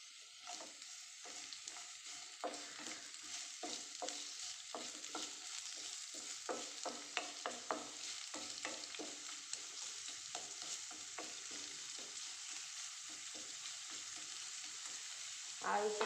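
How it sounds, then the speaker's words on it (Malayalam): Sliced onion sautés in hot coconut oil in a pan, giving a steady soft sizzle with repeated scraping stirs throughout. The sound is quiet and close, with no talking. "വെളിച്ചെണ്ണ കായുമ്പോൾ നമുക്ക് അതിലേക്ക് സവാള ഇട്ട് കൊടുക്കാം."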